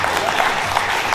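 Brief applause from an audience at a corporate event, a dense clatter of clapping with a voice faintly mixed in.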